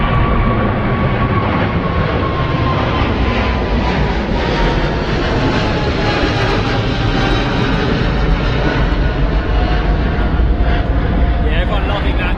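Jet airliner rolling for takeoff on runway 27 right at London Heathrow, a broad, steady engine roar that holds loud and close throughout with a faint rising whine, under a voice talking over it.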